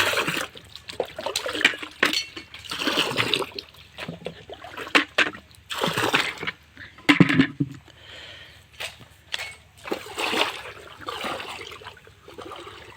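A carbendazim 50% solution and formalin being stirred into water for mushroom-farming treatment: close, uneven sloshing and splashing in irregular bursts, with no voices.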